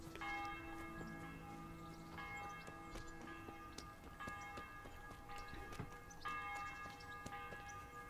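A church tower bell ringing in the medieval game Kingdom Come: Deliverance, repeated ringing strikes with long sustained tones, moderately distant and fairly faint against quiet ambience.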